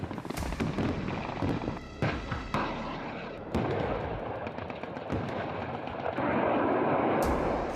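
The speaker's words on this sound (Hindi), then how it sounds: "पोलैंड की धरती पर तोप गरज रही है।" Artillery cannon fire rings out on Polish soil in a series of sharp, heavy booms spaced irregularly across several seconds, each blast loud and close, with a rumbling roar building near the end.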